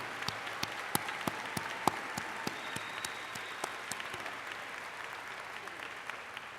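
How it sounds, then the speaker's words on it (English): An audience at a Daytona State College afternoon commencement ceremony applauds the faculty with steady, moderately distant clapping and sharp individual claps standing out, sustained throughout. "let's give them a round of applause to this dedicated group of individuals"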